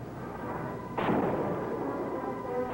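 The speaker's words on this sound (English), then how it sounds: "The gun battle lasted the rest of the day." A single heavy, booming shot in a western gun battle erupts over a steady background rumble, followed by a fainter second report near the end.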